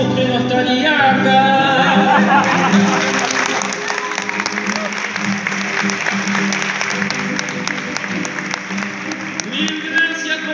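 An audience at an international payadores gathering applauds steadily and loudly for the whole stretch, a dense crowd clapping with voices mixed in, close and continuous.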